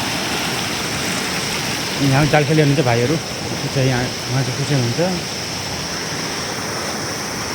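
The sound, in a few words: rushing river water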